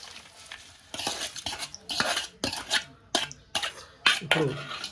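A spoon scrapes and clinks against a pot as tempering is mixed into semiya pulihora, in repeated bursts of stirring that sound close and fairly loud, with no talking.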